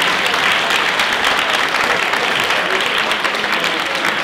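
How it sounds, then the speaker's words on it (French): Sustained audience applause after a student union list debate honours the two list presidents, a thick, even roar of clapping from a seated crowd that holds steady and loud for several seconds. "J'aimerais qu'on applaudisse les deux présidents de chaque liste."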